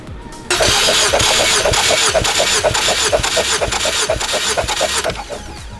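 A Ford Focus ST engine cranks over on the starter during a compression test, a close, loud, even rhythmic chugging of about five seconds that kicks in abruptly and stops without the engine catching.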